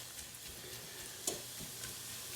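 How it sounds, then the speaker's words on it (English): Meat for breakfast gravy fries and gets stirred in a pan, giving a faint, steady sizzle with a few soft scrapes and ticks throughout. "So just keep letting it cook."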